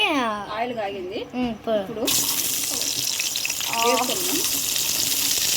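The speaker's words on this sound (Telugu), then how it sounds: "ఇక ఆలుగడ్డలు వేపుకోవడం" Potatoes frying in oil for a simple aloo fry give a broad, steady sizzle that starts partway through, with someone talking before and over it.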